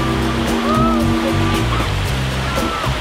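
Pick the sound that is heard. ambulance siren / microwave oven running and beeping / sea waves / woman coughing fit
sea waves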